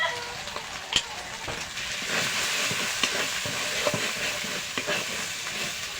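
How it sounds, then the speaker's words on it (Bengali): Ground red chilli and cumin sautéed in a pan for chicken biryani give a constant close sizzle with occasional spoon clicks and scrapes. A voice speaks faintly beneath it. "আমি ভালো করে কষিয়ে নেব দিয়ে দেবো লঙ্কা গুঁড়ো জিরে গুঁড়ো"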